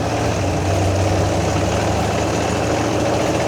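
A 1979 Jeep CJ7 fitted with a small block Chevy V8 rumbles steadily while driving in second gear, a constant low engine drone with road and wind noise and no talk.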